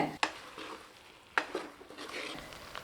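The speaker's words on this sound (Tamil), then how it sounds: "இதை சேர்த்து வதக்கி விட்டுக்கலாங்க" Chopped ridge gourd sizzles in a hot pan, with two sharp scraping stirs of a spatula against the metal.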